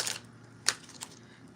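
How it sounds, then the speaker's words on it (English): Tarot cards shuffled by hand during a live oracle reading, a few soft, quick papery riffles and taps, close and quiet with low background hum. "I'm shuffling, and when the cards are ready"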